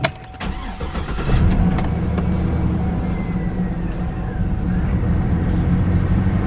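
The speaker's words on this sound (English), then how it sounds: "Alright, so we'll go ahead and start it." A Cadillac Escalade engine cranks and catches, then settles into a steady, loud, low idle rumble that continues to the end, heard up close.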